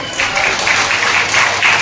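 Church congregation, the men clapping together, a dense, loud, steady applause with rhythmic pulses of claps throughout.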